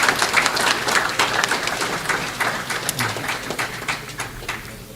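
Applause from the audience at a West Indies cricket under-19 championship awards and closing ceremony, a steady wash of clapping that stays fairly even and fades slightly toward the end.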